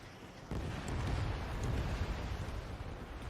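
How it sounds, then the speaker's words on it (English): Missile launch in the Ace Combat 7 flight combat game, a sudden low rumbling roar that kicks in and sustains as a broad, heavy whoosh and blast without any speech. "Locked. Missile launched."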